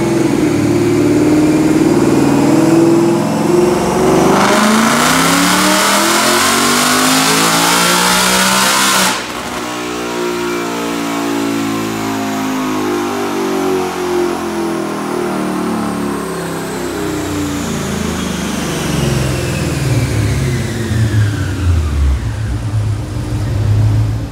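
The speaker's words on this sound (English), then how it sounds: "watch this dyno pull" A 2018 Ford Mustang GT with automatic transmission, long-tube headers and an Edelbrock Stage 1 supercharger on the stock air box, revving loudly on a DynoJet dyno, climbing to about 7,500 RPM and then winding down, with no talk.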